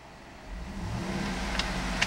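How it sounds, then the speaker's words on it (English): A 2011 Cadillac Escalade ESV engine starts up and settles into a steady running hum, rising from quiet to a constant close drone with a couple of small clicks. "Alright, got the vehicle running."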